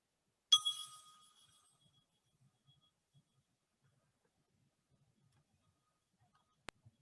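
A single bell is rung during a worship service, giving one bright, clear strike that rings out and fades over about a second, followed by near silence.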